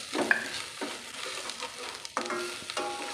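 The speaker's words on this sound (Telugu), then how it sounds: "ఇప్పుడు ఇందులోకి ఫస్ట్ పచ్చి బఠానీలు వేసుకోవాలి." Green peas fry in a little oil in a pan, making a continuous close sizzle broken by several sharp scraping stirs of a spoon against the pan.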